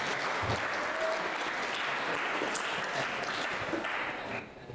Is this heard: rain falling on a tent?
no